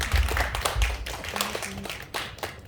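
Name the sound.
applause from youth worship congregation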